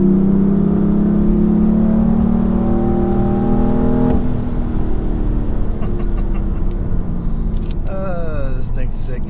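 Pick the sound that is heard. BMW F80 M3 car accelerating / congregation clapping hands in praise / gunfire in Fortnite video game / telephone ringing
BMW F80 M3 car accelerating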